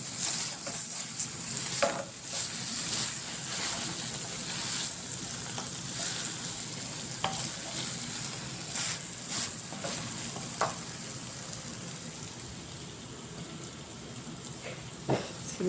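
Flat beans and large chunks of new potato fry in a pan with a soft, steady sizzle, broken by occasional clinks and scrapes as they are stirred.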